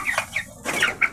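Chickens in a poultry house cluck and squawk restlessly as feed is brought in, several close, agitated calls in quick succession.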